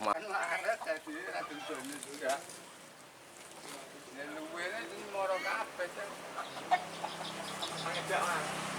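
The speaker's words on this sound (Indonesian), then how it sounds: "ini ternak ayam" Hens cluck and squawk on an egg-laying chicken farm, scattered calls rising and falling, while people talk over them.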